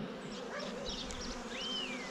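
Honeybees buzz steadily around a brood frame lifted from a hive during colony expansion, a close, continuous droning hum with individual insects whining past.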